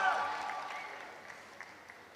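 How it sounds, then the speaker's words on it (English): An audience applauds at a college media festival, with a burst of clapping and crowd noise that starts loud and gradually fades over a couple of seconds. "They're not coming on stage because the applaud isn't loud enough."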